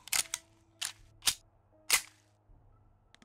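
Gunshots in the video game 7 Days to Die, several sharp, loud cracks spaced irregularly, each with a brief decay, over a faint low game hum and near silence between them.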